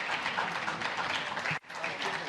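Audience applause during a parliamentary hearing with Margaritis Schinas, a brief moderately quiet burst of many hands clapping that cuts off abruptly, then resumes faintly.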